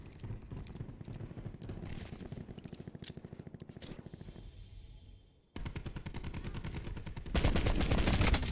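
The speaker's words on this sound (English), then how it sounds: "I whiffed the first two shots" Rapid gunfire in the online shooter Black Ops 4, with dense bursts of sharp automatic shots, a short lull, then sustained loud volleys that grow heavier toward the end.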